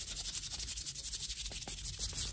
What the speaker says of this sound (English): Rub